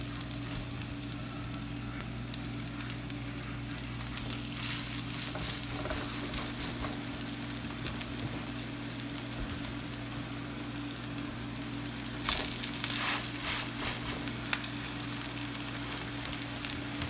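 Buckwheat and black bean burger patties fry in an oiled pan with a steady, close sizzle that runs throughout, brightening into crackly bursts partway through and again near the end.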